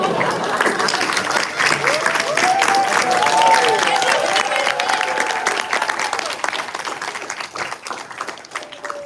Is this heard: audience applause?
yes